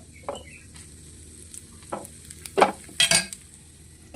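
A thick wheat dosa cooks in a pan as ghee is added, with a quiet sizzle punctuated by a few short bursts of louder crackling and scraping.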